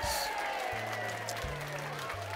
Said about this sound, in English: Oh, that sounds like someone cheering.